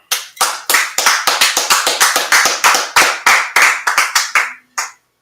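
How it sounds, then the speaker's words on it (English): A class claps in unison, a run of about twenty sharp, evenly spaced hand claps at a brisk steady beat, close and loud, ending with a short pause and a final clap. "Let's clap it up."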